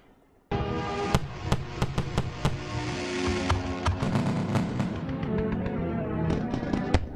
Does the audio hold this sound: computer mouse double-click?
no